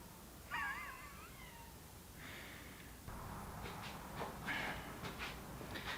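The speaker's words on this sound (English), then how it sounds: "has been meowing and meowing at the door" A cat meows at the door indoors, a faint rising-and-falling cry early on followed by softer scattered vocal sounds over a quiet room background.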